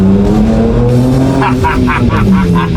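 Tuned 2024 Ford Ranger Raptor, Stage 2, spinning its tires under hard acceleration: a loud, close engine roar with rising pitch and rhythmic bursts of tire noise, with a voice talking over it.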